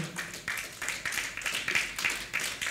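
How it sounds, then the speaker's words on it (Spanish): A church congregation applauds together, a dense, even patter of clapping at moderate distance that carries steadily for a few seconds. "Podremos darle un aplauso final al Señor."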